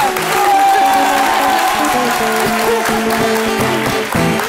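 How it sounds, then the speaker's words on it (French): Audience applause and crowd noise for Jean-Marc on a live television show, steady and loud through the whole stretch, mixed with voices and music. "Applaudissements pour Jean-Marc."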